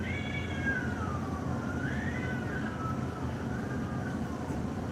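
A cat yowls in drawn-out, wavering meows and caterwauls, pitch rising and falling in long swoops, moderately loud over a constant low rumbling background.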